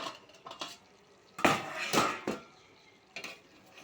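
A lid lifted off a cooking pot of chicken being simmered in its own juices, giving a few loud metallic clanks and scrapes in quick succession, with quieter clinks before and after.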